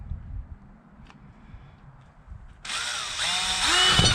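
Cordless power drill driving a screw into wood while working on a tractor shed, a faint click early on, then a loud steady whir from about two and a half seconds to the end with rising pitch.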